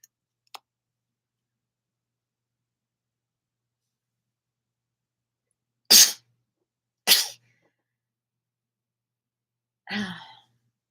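A single sharp sneeze followed by a second burst and a softer exhale, in an otherwise quiet room.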